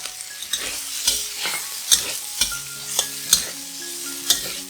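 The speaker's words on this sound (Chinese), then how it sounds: "放入竹笋继续的翻炒。" Bamboo shoots and tomatoes stir-fried in a wok for a vegetarian Fuzhou hot and sour dish, with a steady sizzle broken by repeated sharp scrapes and clanks of the spatula at an uneven rhythm, loud and close with no speech.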